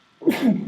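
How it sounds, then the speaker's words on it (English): A single short, sharp sneeze bursts out close by after a moment of quiet, ending in a breathy tail. "You've just sneezed."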